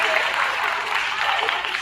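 School assembly audience at a 5th grade awards ceremony applauding and cheering steadily, a dense wash of clapping and voices filling the hall without pause.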